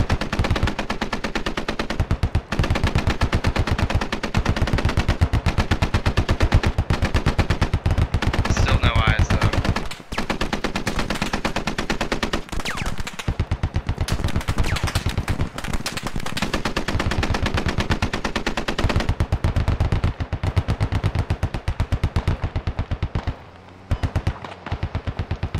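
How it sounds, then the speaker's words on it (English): Sustained infantry gunfire and machine gun fire rattle almost without a break through a Squad firefight, dense rapid bursts close and loud, broken only by a few brief gaps. "there's accurate infantry fire coming from north-northwest"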